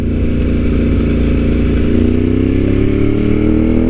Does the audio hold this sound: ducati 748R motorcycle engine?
yes